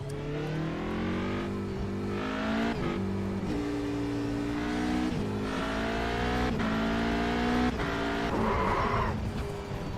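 Radical race car in iRacing with no ABS: a steady, loud engine drone rising and falling through gear changes, with a brief tire squeal near the end and no voices.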